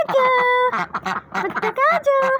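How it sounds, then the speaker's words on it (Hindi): A pet duck quacks close and loud in a quick run of repeated raspy calls, with short gaps between the bursts. "बत्तख आ जाओ।"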